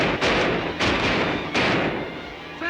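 Three loud gunshots ring out in a western movie shootout, each a sharp broadband crack with a short rolling echo, spaced under a second apart with no talk between them.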